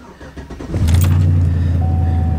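Restored farm truck engine cranking briefly and then catching, settling into a loud, close, steady idle hum.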